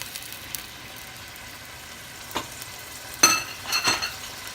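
Pepper and tomato frying in oil in a pan, a faint steady sizzle with a few sharp stirring scrapes and clinks of a utensil toward the end.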